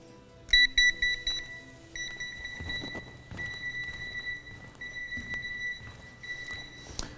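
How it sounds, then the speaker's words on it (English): Audible beacon marking the hoop for blind basketball: a steady electronic beeping alarm tone repeating at moderate distance over a noisy gym background with footsteps and knocks. "this is the third source that's going to represent our hoop with our sound source."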